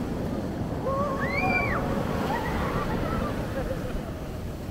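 Ocean surf rolls steadily onto a Los Angeles beach, a continuous broad wash of water and wind close to the microphone, with a few distant bird calls on top.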